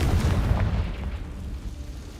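A Confringo blasting spell bursts in Hogwarts Legacy with a loud, close explosive boom that rumbles and fades over a couple of seconds, with no voices over it.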